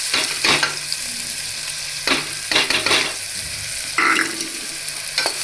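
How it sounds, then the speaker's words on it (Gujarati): Chopped onion sizzles in a hot tempering of oil for sago khichdi, with several sharp bursts of stirring and scraping against the pan over a steady close fry. "એને થોડું હલાવી નાખીએ"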